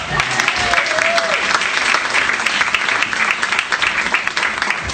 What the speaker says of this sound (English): Let's give it a huge round of applause for Chella.